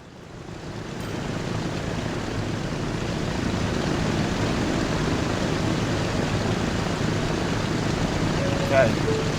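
Propeller plane in Transport Fever taking off, with a rising engine drone that swells over the first couple of seconds and then holds as a steady broadband roar.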